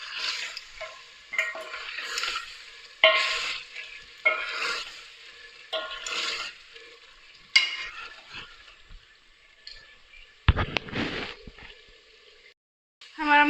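Masala for aloo gosht frying in a pot while being stirred: steady close sizzle broken by repeated scraping strokes every second or so, with a louder clatter of the utensil near the end.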